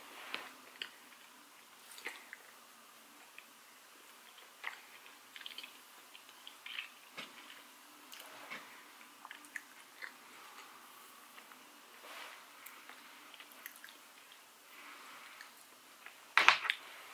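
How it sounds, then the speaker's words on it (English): Cold, hardened spicy fried chicken being chewed close to the mic: faint, irregular crunchy bites and soft mastication clicks spread over a quiet background, with a sharper crunch near the end. "It's really hard to chew."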